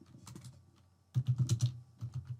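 Quick bursts of typing on a computer keyboard while entering details for a new lead card, a light patter early on and then a louder run of keystrokes, with nobody speaking.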